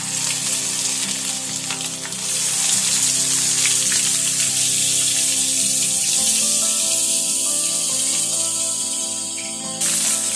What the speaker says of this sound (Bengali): তেলটি গরম হয়ে গিয়েছে। আমি এর মধ্যে মাছগুলো আস্তে আস্তে ছেড়ে দেব।